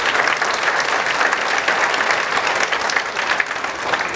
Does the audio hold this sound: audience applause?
yes